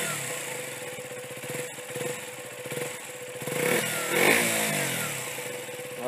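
A KTM 125 Duke single-cylinder engine fitted with an aftermarket exhaust idles with a rapid raspy putter, then revs up twice in short blips, loud and close, with no talking.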